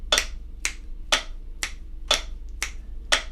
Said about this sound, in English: So we're clapping on the beat, and we're also clapping halfway between each beat.